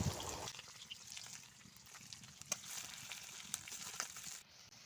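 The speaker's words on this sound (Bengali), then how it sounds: "তো পেঁয়াজগুলোকে এখন আমি ভালো করে ভাজা" Onions frying in oil in a pan for a home Bengali meal, a steady close sizzle with crackling pops and faint stirring throughout, no talk.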